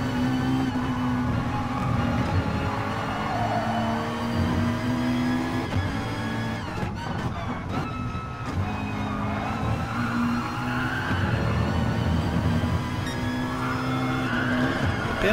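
A McLaren and a BMW race car are sim-racing at Spa-Francorchamps with steady, loud engine drones and shifting pitch. Tyre scrub and skidding sounds come in through the corners.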